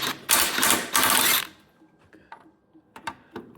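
An impact wrench loosening 19 mm subframe bolts on a Toyota SC300, a loud rapid hammering burst lasting about a second and a half, then quiet clicks and clanks of tools.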